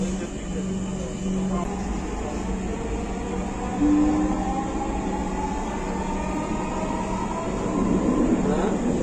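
A Dhaka metro rail train runs at steady speed with a continuous rumbling drone and faint rising whine, heard from inside the car. Recorded announcements play over the motion.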